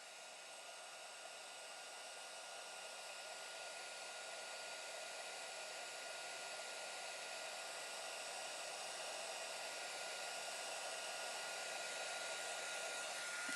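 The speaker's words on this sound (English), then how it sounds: "I'm going to heat up my heat tool." Embossing heat tool blowing hot air over a card project, a steady, even whooshing roar like a hair dryer that holds unbroken for the whole stretch, with no talking.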